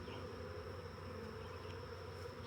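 Dense, steady buzzing of many honey bees fills the air during an open apiary hive inspection, a continuous close drone with no pauses and no voices.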